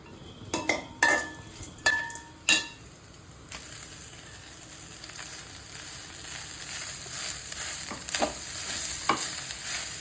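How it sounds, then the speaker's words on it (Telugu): Rice fried in a pan with grated coconut for a festival offering, with a few sharp metal spoon clinks against the pan at first, then a steady close sizzle and occasional stirring scrapes. "కొబ్బరి ఇవన్నీ ఫ్రై అయ్యాయి. ఇప్పుడు రైస్ వేసుకుందాము."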